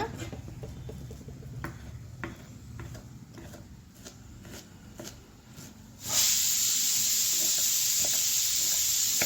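A pressure cooker on a kitchen stove, cooking a rice papad batter, suddenly lets out a loud, steady hissing whistle that holds on without a break after a quieter stretch of faint kitchen clatter.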